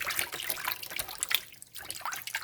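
Thick brine poured over salmon fillets, a continuous close splashing and trickling of liquid with short dribbles as it coats the fish.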